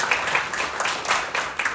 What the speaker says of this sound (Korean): 여러분 다시 한번 감사의 박수 한번 부탁드리겠습니다